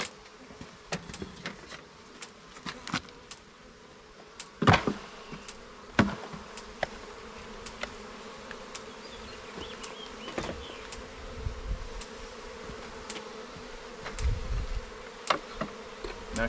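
A relocated bee swarm buzzes steadily while the bees are shaken off a comb, with a sharp knock or bump now and then breaking through the constant humming drone.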